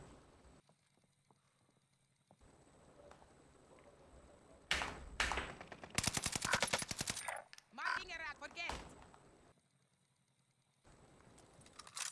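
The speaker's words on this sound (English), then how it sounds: "Who is shooting us? Someone sniped me." Gunfire in Call of Duty: Vanguard on the Fortune's Keep map breaks out in loud, rapid bursts of close shots midway through, with players talking before and after.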